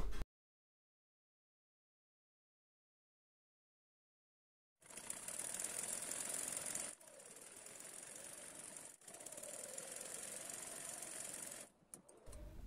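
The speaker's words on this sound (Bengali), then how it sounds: "এক পাশে আমি হাফ ইঞ্চির মতো করে সেলাই করে নিয়েছি" A sewing machine stitches the half-inch side seam of a palazzo in a steady, close whirring run that stops briefly twice before restarting, after several seconds of silence.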